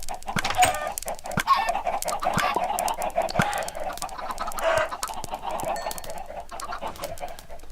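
Chickens in the video game Full Crank cluck in short repeated bursts, close and fairly loud, scattered with sharp clicks over a quiet background and no talking.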